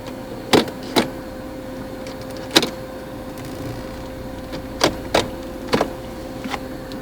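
Electric power windows on a 1997 Mercedes-Benz C240 (W202) whir over a low idle hum, broken by several sharp clunks and clicks as the glass stops and switches are pressed; close, with no speech.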